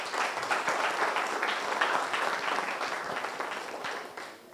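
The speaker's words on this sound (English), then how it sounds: "Please give our guests a round of applause." An audience claps for the guests at a work and travel forum. The applause is dense and steady, fairly close and loud, and thins out at the end. No one speaks over it.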